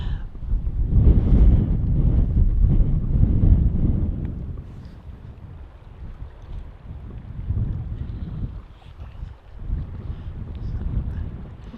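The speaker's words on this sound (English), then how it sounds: "it is windy out here" Gusts of wind buffet the microphone with a low, rumbling roar that swells and eases, strongest at first and then in bursts later.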